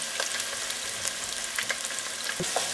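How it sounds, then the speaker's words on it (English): Chopped onions fry in olive oil in a pot, a steady close hiss of sizzling with small crackles and an occasional light utensil knock, no talk. "So I take the onions that I just cut up, and I put them in the pot. And then start to fry."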